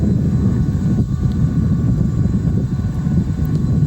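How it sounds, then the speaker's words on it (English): An airplane passing overhead during a neighborhood e-bike ride, a steady loud broadband roar mixed with heavy wind buffeting on the microphone throughout. "The airplane up here, I mean, you can see it or not."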